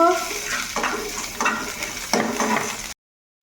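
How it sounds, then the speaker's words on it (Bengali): Dried red chillies and garlic fry in hot oil with a steady, close sizzle, broken by a few louder stirring scrapes before the sound cuts off abruptly. "তো এই শুকনো লঙ্কা রসুনটা একটু হালকা করে ভেজে নেব।"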